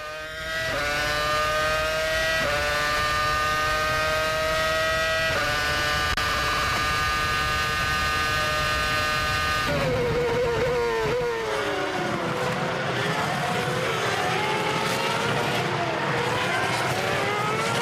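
A Williams Formula 1 car's Cosworth engine screams at high revs during the 2006 Malaysian Grand Prix at Sepang, loud rising and falling pitch sweeps through gear changes, then a quick downshift and blending engine notes as cars pass.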